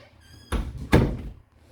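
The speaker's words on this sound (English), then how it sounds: "Opening up our door here." Door of a 2019 Keystone Fuzion 419 toy hauler opened from the garage into the living area: a short squeak, then two solid thunks of the latch and door swinging, close and fairly loud, with no talk.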